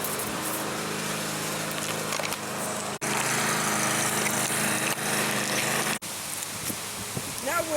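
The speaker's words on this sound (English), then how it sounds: "Now we're at 39 Wayne Terrace, mowing the lawn." A lawn mower runs steadily while mowing the lawn of a single-family house, a loud continuous engine drone with two brief cuts.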